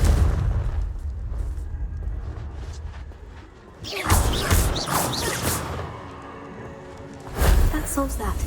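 A Confringo spell explosion in Hogwarts Legacy booms loudly in the middle, with heavy rumbling crashes and debris following, framed by a voice speaking before and after.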